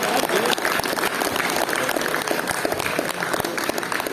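Audience at a cultural evening hosted by young managers clapping, a continuous, loud crowd applause with dense overlapping claps sustained throughout.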